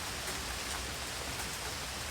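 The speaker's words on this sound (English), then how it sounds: "If you're like me and you're outside, you're doing it in the rain." Rain falls outdoors in a soft, even, continuous hiss, faint and steady throughout, with no voices over it.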